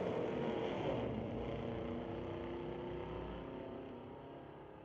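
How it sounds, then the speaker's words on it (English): Engine roar from a 1969 Dodge Dart and a Chevy Camaro drag racing at a street-legal drag strip, a loud, steady drone that gradually fades as the cars pull away. "Chris Beardshaw goes at a 69 Dodge Dart racing against Kai Johnson in a Chevy Camaro."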